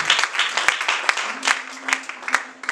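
A church congregation at a French-language sermon breaks into applause, a dense, steady patter of many hands clapping nearby with a few sharper individual claps standing out.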